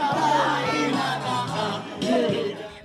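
A crowd at a New Year celebration in the city cheers and sings joyfully, many voices blending into a loud, continuous roar with whoops rising and falling.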